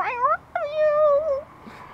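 A 15-day-old kitten meows twice up close and loud, a short rising cry followed by a longer drawn-out mew, with a faint sound trailing at the end.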